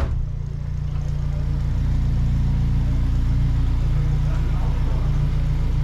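Race car engine at a circuit, the Autódromo Internacional do Algarve, droning loud and steady from up close with a low, rough rumble, revving slightly and holding high under faint background voices.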